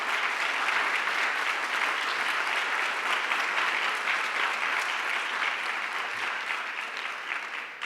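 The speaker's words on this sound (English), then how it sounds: "giving them a round of applause" Audience at a school district candidate forum applauds the candidates, a dense, steady wash of many hands clapping at moderate distance that holds for several seconds before tapering slightly at the end.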